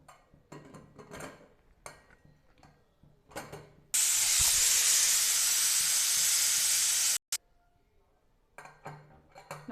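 A pressure cooker whistle blasts steam while tomato bath cooks in a home kitchen, a loud continuous hiss lasting about three seconds, with clinks of utensils and pans before and after.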